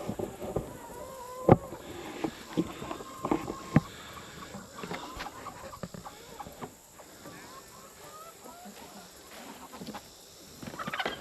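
Layer hens in a backyard coop cluck and call in scattered bursts, some fairly close and loud, with soft wind and faint background noise between calls.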